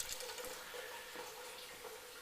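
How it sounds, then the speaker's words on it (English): Tap water runs into a roughly three-gallon soup pot, a faint steady splashing stream with a rising filling tone, heard alone. "fill pot with water"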